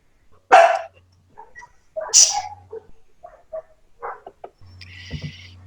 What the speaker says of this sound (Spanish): ahí tengo uno de los perros que está ladrando